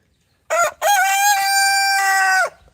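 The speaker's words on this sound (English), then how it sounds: "it's the loudest rooster we have" A rooster of the whiting breed lets out one loud, close crow, a short opening note followed by a long sustained call lasting about two seconds, with nothing else heard.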